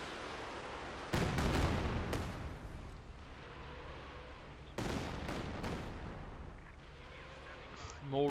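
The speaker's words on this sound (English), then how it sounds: "Got the Katyusha there unleashing hell as well." A Katyusha rocket artillery barrage in the World War II strategy game Company of Heroes 2, with two heavy rumbling salvos of launches and blasts separated by quieter battlefield noise, while a commentator talks throughout.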